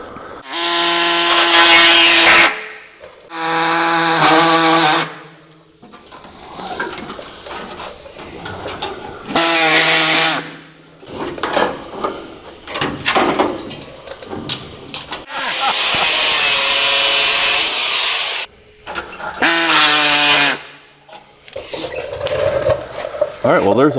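A cutting tool slices through rusted VW Beetle body metal in several loud, shrill, whining bursts separated by pauses, with clattering and handling noises between cuts.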